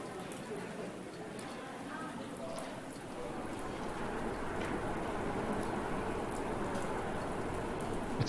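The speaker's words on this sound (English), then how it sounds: "Oh, it's raining." Steady video game rain from Islands: Non-Places pattering on a surface, growing slightly heavier, a continuous hiss with scattered drops and no voices.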